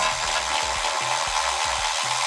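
A wrench works a running board bolt on a Chevrolet Silverado pickup, giving a close, rhythmic grinding rasp that repeats in steady strokes roughly twice a second over a constant hiss.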